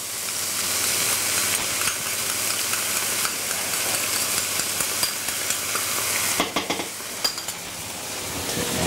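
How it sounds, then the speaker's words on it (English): Onions, garlic and peppers fry in a pan with tomato ketchup, giving a steady, close sizzle with some clinks of a utensil stirring toward the end. "the onions and the garlic and the peppers frying off now"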